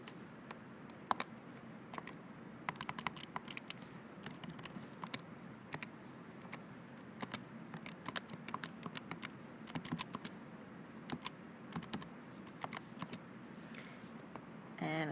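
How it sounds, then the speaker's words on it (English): Quick bursts of key presses on a calculator as numbers with parentheses are entered, irregular close clicks and taps running throughout over a quiet background, with no talking. "I make sure I use parentheses when I type it in my calculator."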